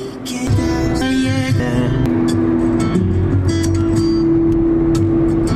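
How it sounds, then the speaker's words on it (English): A car driven along the road on a morning commute to work, heard from inside as a steady, close engine and road hum with a few faint higher tones, without speech. "So I'm driving to work right now."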